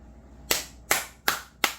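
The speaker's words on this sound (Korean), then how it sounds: "이 박수 소리는 어디서 나는 소리예요?" Four sharp hand claps at a slow, even rhythm, close and loud against a quiet room, with no talking.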